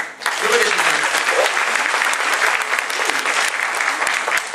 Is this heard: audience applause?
yes